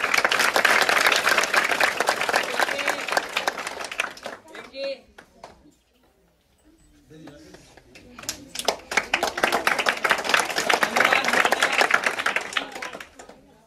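An audience at a one-day workshop applauds, with dense close clapping that stops, leaves a quiet gap with a few voices, then bursts into loud clapping again.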